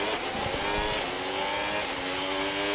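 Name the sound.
race car engine in Formula 1 video game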